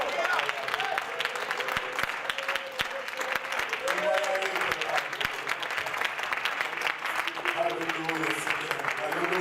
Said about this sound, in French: Je pense que nous devons acclamer le Seigneur un petit peu plus.